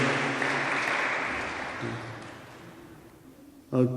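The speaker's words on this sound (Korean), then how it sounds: "환영하는 박수로 네, 환영합니다" A congregation claps in welcome, a moderate burst of applause that gradually thins out and fades, followed by a brief sharp sound at the end.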